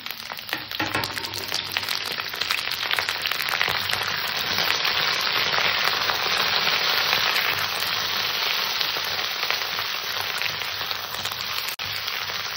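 Potatoes, pumpkin and okra sizzle in a hot pan for a vegetarian curry, a steady, dense crackling hiss that carries unbroken throughout with no talking.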